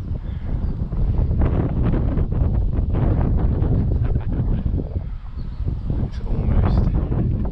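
Steady, loud wind buffets the microphone outdoors at an RC plane flying field, a continuous low roar with gusty surges and no pause across the whole stretch.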